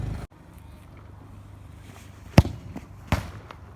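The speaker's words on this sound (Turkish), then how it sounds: "Şimdi hızlı şutlarını göster bakalım." A football is struck hard twice during shooting practice at training, giving two sharp, close thumps about a second apart over quiet outdoor background noise.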